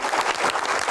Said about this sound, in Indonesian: Tepuk tangan untuk Pak Bahlil